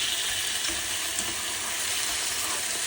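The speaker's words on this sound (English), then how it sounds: "You can hear them sizzling." Salmon fillets sizzling in a hot pan: a steady, even crackling hiss heard up close for a few seconds, with no talking.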